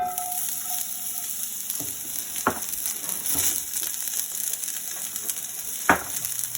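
Onions and garlic sizzle steadily in a hot pan, a constant crackling hiss with a few sharp clinks of utensils stirring, close up and no talking.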